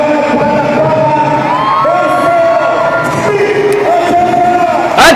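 A Manila crowd cheers and whoops with rising shouts and scattered yells at an official oath-taking, loud and lively throughout, with a sharp burst at the end.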